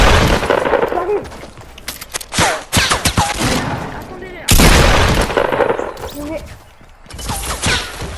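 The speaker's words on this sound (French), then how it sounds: "ça me tire derrière, ça me tire, ça me tire" Video game gunfire aimed at the player in a squad battle, loud bursts of rapid shots and blasts in clusters with brief pauses, close and harsh, with someone talking excitedly over it.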